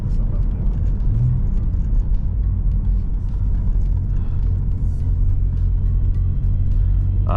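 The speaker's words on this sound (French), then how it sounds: "ce que j'aime bien là sur les premiers tours de roue, c'est que c'est un vrai grondement. Ça gronde, ça. C'est plus que du ronronnement." An Alfa Romeo Brera 3.2L V6 JTS Q4 gives a deep, continuous engine rumble from inside the cabin while driving, loud and steady, with a faint voice briefly underneath.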